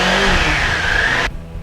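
A 2022 Kawasaki Ninja 400 fitted with an SC Project slip-on exhaust revs loudly and steadily up close, holding a sustained engine roar before it cuts off abruptly near the end.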